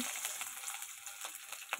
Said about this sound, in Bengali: কড়াইয়ের তেল গরম, দিয়ে দিলাম রসুন